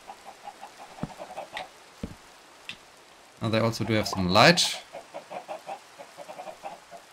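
Chickens cluck in soft, repeated short calls from a farming video game, steady through the background while someone talks over part of it.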